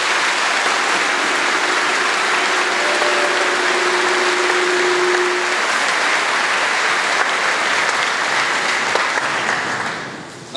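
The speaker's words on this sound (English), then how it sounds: "please, take a moment to give these teachers a round of applause" Graduation crowd applauding the teachers, a dense, loud and steady roar of clapping from a large audience that holds for several seconds and fades out at the end.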